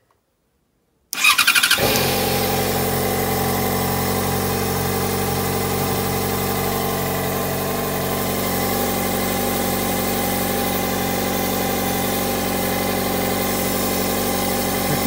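A car engine cranks and catches after a second of silence, then settles into a steady, rough idle that continues unchanged, close and fairly loud.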